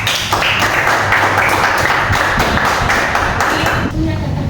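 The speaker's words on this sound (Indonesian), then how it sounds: "Jadi tepuk tangan untuk semua." Group of students clapping together for classmates after a classroom group presentation, a brisk dense burst of claps that holds steady, then stops abruptly near the end.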